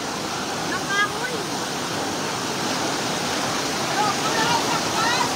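Strong floodwater current rushes past in a steady, broadband roar close by, loud and constant throughout with no clear pauses.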